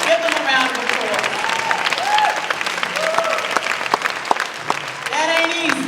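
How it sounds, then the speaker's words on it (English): Crowd applause at a Queens Black History heritage and leadership celebration, dense clapping mixed with cheers and raised voices throughout, fairly close and lively. "Give them a round of applause."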